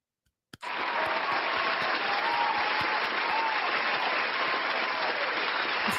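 A round of applause starts abruptly after a short silence and holds at a steady, full level, a dense wash of many hands clapping with no voices on top.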